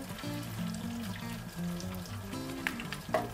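Prime rib deep frying in an oil fryer, a soft continuous bubbling sizzle with a few drips and splashes, beneath a low tonal hum, fairly quiet and with no talk.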